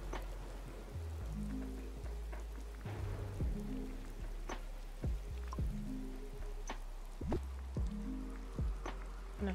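Rain falls in Disney Dreamlight Valley, a soft steady hiss of drops beneath gentle, repeating game music notes, with no distinct thunder standing out.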